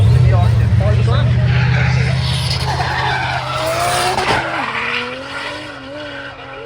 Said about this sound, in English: Next car we got out the pit lane is the little MX-5 owned by Harry Penny.